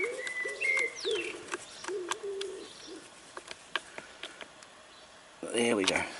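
Pigeons coo softly in a few low, rounded phrases, with faint chirps and ticks scattered around, then a louder burst of calls near the end.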